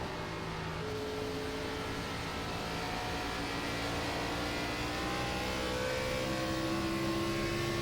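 A NASCAR Gen 4 stock car engine held at full throttle on an oval in iRacing, a steady, loud, droning roar with slowly rising pitch throughout.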